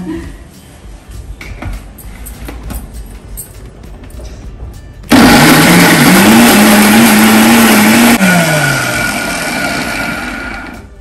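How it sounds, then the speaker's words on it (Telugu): A kitchen mixer grinder blends tamarind, green chilli and cucumber chutney, starting abruptly mid-clip with a loud, steady high-pitched motor whine that shifts pitch slightly as it runs, after quieter kitchen sounds and talk. "చింతతొక్కు పచ్చిమిరపకాయ ఇదంతా దోసకాయ ముక్కలు పైపైనే ఉండిపోకుండా నీట్ గా కలిసిపోయి గ్రైండ్ అయిపోతుంది."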